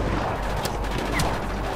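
Shotgun blasts in a first-person video game with grappling hooks and a wide weapon range: two sharp reports about half a second apart, set against a steady, noisy in-game background.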